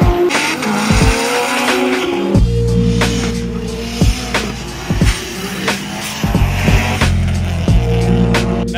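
An 1800HP Nissan R34 GTR racing down a track at night, its engine roaring loud and close through rising revs with sharp gear changes and pops.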